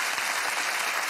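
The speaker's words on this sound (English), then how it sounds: "please give it that amount of applause" Studio audience applause on a comedy chat show, a thick, even roar of many hands clapping at once, sustained at a constant level throughout with no voices over it.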